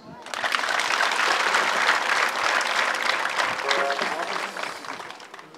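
A church congregation breaks into applause that rises quickly, holds as dense, even clapping for several seconds, then tapers off near the end.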